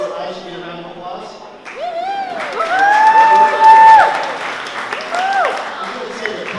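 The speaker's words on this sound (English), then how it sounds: "Probably means I should get a round of applause." Wedding guests applaud with whoops and cheers at a wedding celebration. The crowd noise starts modestly, swells into loud clapping mixed with cheering voices, then eases while the cheering continues.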